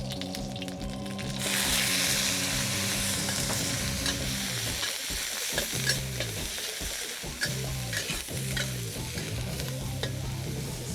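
Prawns stir-fried in a wok for char kway teow, a loud continuous sizzle close by with rhythmic metallic scraping and tossing strokes.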